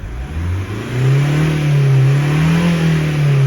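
A tuned Mazda2 Skyactiv 1.5 turbo with its EGR and DPF permanently disabled accelerates on a test drive. The engine note is loud and close, rising and holding in a steady droning rev with no talk over it.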